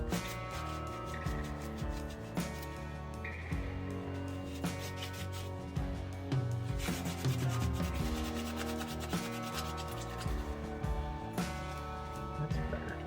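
A nylon car part from a neutral safety switch is scrubbed clean with fresh gasoline, making continuous close rubbing and squeaky scouring strokes in an uneven rhythm.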